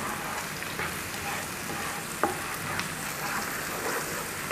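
Pork barbecue pieces and other ingredients frying together in a pan make a steady, loud, close sizzle and crackle, with a few brief clicks as they are stirred, and no talk.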